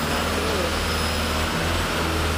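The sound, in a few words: minivan driving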